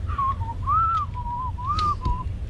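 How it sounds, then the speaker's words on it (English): A clear whistled tune of several rising and falling notes, fairly close, over low background rumble. "That whistling sound again."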